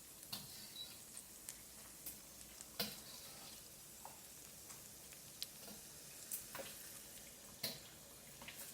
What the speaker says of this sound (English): now we just wait until the butter is burnt